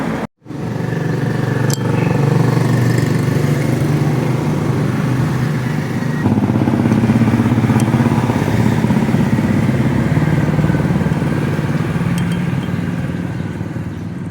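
A Yamaha Mio Sporty scooter engine that has been losing power runs loud and close during a test, holding a steady, buzzing drone throughout.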